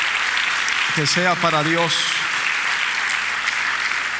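Church congregation applauding, a steady wash of clapping hands throughout, with someone speaking briefly over it.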